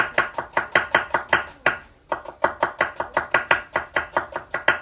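A knife chops thinly sliced onion on a wooden cutting board for Guyanese pepperpot, a rapid, even run of crisp close-up strikes with one brief pause partway through.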